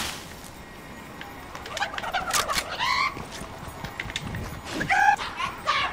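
Chicken in Fortnite Chapter 3 makes a few squawking, clucking bursts over a hissy game background, mid-distance and moderately loud, the loudest cluster coming near the end.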